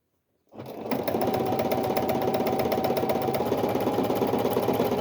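A sewing machine stitches small fabric pieces together for a child's vest, starting after a brief silence and running steadily and loudly with a fast, even mechanical rattle to the end, alone with no talk.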